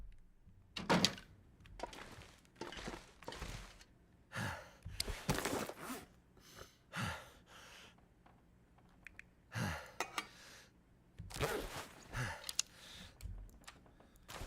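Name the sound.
character panting in The Long Dark video game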